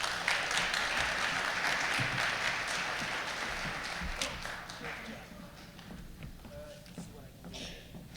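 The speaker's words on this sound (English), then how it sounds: "Give him a round of applause." An event audience applauds a speaker walking up to talk, the clapping full and loud at first, then thinning and fading toward the end amid scattered room noise.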